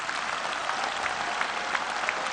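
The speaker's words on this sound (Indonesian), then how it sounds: "Saya minta aplaus yang sebesar-besarnya." Sustained applause from the audience at the NasDem party congress, a dense and even clapping that stays steady and fairly loud with no voices over it.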